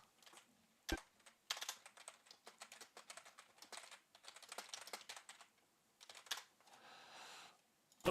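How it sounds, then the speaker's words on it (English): Quiet typing on a computer keyboard during a Magic: The Gathering Arena draft session, with irregular clusters of key clicks and short pauses, close and soft. "it's just typing in chat"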